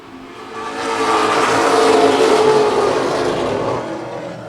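Race cars roar past on a speedway track, a loud engine wash swelling in and fading away as the pack goes by.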